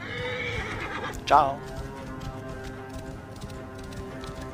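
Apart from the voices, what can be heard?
horse neighing in Assassin's Creed Origins video game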